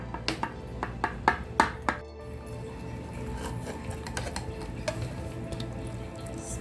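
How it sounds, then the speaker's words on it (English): Baked mutton lasagna is cut and dished out with metal utensils: a quick run of sharp clinks and scrapes against the pan early on, then softer continuous scraping and shuffling, close up with no talking. "Let's cut it. I will dish out and show you."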